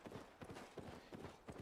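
Armored horse hooves clip-clop in a steady, loud rhythm of paired strikes in a video game, close and clear with no talk over them.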